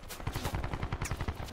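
Rapid automatic gunfire in Call of Duty: Black Ops 4, a fast rhythmic string of sharp shots at moderate level, slightly distant, with no talking during the burst.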